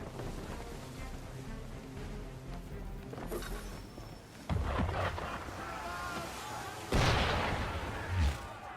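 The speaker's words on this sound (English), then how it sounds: "Why is he shooting at us?" In the Assassin's Creed 3 video game, gunfire and cannon blasts aimed at the player's ship boom out over rolling waves and sea ambience, with louder bursts near the middle and end.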